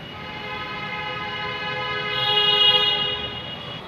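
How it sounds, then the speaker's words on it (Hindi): A metro station escalator in Kanpur running with a steady tonal hum and whine, rising slightly in loudness midway, heard close with no talk. "चलिए आप लोग एस्केलेटर का इस्तेमाल करते हैं,"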